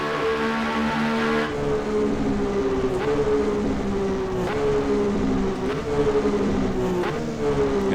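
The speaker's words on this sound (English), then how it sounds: "And just little taps on the accelerator as we downshift" A 1982 Ferrari 126C2 Formula One engine in rFactor 2 drones loud and close, its pitch dipping and catching with short throttle blips on each downshift, a steady tonal whine running through the whole stretch without talk.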